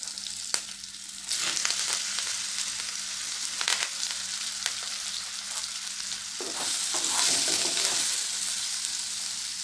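Stuffed bitter gourds fry in a pan with a close, steady sizzle, broken by scraping stirs and bursts of louder crackling as the pieces are turned.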